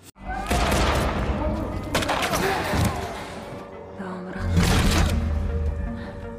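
Gunfire from soldiers in a film, with sniper shots among it: bursts of loud, rolling battle shots and booms layered over a dense soundtrack, alongside a narrating voice.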